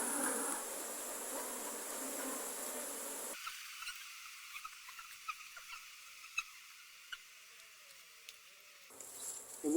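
A strong honeybee colony droning at an occupied hive while a beekeeper does maintenance, a steady insect hum that thins out midway and returns near the end, with a few faint clicks and knocks over it.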